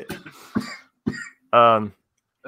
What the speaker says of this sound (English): Oh, you still got the cough there.